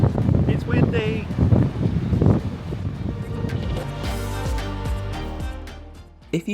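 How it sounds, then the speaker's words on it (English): Gusty wind buffeting the microphone outdoors, rumbling in bursts, with a person talking over it and some music-like tones later. "It's windy."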